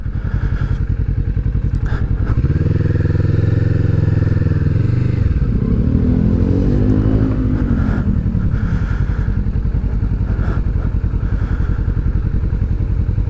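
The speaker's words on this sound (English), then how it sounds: "as you can hear, we've got the Arrow exhaust blubbing away. It cracks and pops, it's nice and noisy" Kawasaki Vulcan S motorcycle fitted with an Arrow exhaust rides along, its engine blubbing steadily close up with throttle swells, crackles and pops over a long continuous run.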